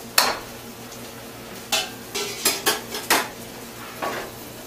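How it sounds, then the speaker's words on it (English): A series of clattering knocks and scrapes as chopped vegetables, including peppers, are tipped into a metal sauce pot, about eight irregular hits over a few seconds. "take all this vegetable mass and dump it right into the sauce pot right here"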